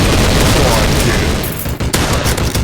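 Rapid, loud gunfire from a shotgun in a first-person shooter game, with blasts packed densely together and a brief lull before more shots.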